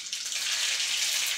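Mustard seeds crackle and sizzle in hot oil in a wok, a steady bright hiss throughout with no talking.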